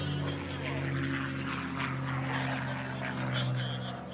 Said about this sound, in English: Another P-51 Mustang.